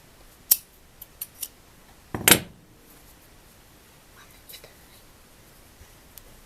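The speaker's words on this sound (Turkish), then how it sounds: "Bu kaydırma işiminden sonra bir zincir ve ipimi kesiyorum." Knitting yarn snipped with scissors during a two-needle slipper project: a few sharp, close clicks, then one louder cut near the middle and faint handling noises afterward, all over a quiet background.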